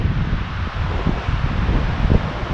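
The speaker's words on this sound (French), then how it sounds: "il y a du vent, c'est trop bon" Steady wind gusting across the microphone, a constant low rumble with soft rustling and buffeting, no voices.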